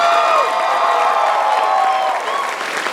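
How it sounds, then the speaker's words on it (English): Audience applause mixed with cheering and whoops for cosplay contest competitors at an anime convention, a loud, continuous crowd roar with overlapping shouts and clapping. "I want you to give them a round of applause and a round of applause to all the cosplayers that have competed tonight."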